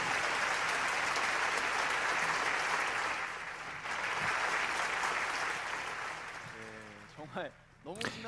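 Audience applause after an exciting stage performance by a team at an international youth assembly, a dense steady roar of clapping that tapers off near the end as a voice begins speaking.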